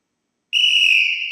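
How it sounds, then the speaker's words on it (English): A sharp, shrill referee's whistle blast at a futsal match starts abruptly after a moment of silence and holds steady, loud and close, with no voices. "the referee will blow the whistle,"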